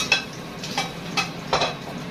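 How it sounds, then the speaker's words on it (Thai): Garlic frying in a hot pan, four evenly spaced scraping strokes of a utensil against the pan over a faint steady sizzle, close and moderately loud. "เจียวกระเทียม เจียวกระเทียม"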